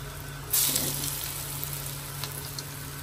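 Piyaju onion fritters and beguni eggplant fritters frying in oil for iftar, a steady soft sizzle that swells after a brief pause and runs on evenly, with a few faint clinks.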